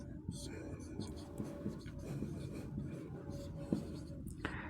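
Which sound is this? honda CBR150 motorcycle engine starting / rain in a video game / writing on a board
writing on a board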